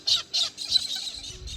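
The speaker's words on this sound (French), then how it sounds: "Et là il y a des perroquets." Parrots in Australia at sunset squawk in a run of harsh, repeated calls at moderate distance.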